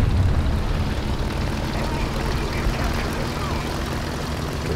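Droning propeller engine of an early Messerschmitt fighter in War Thunder, a steady loud hum that holds at nearly even level for the whole stretch with no break.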